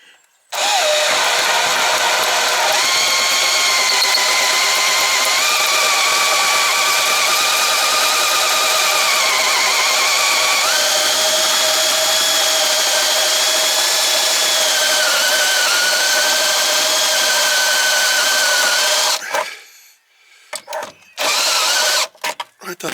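A spot weld cutter in a drill bores out spot welds on a rusty Suzuki Jimny, a loud steady whine with wavering pitch for nearly twenty seconds, then stops, followed by a few short knocks.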